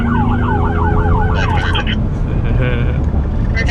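A loud wailing siren on a Raptor pickup sweeps up and down, then shifts to a different tone over steady engine and road noise.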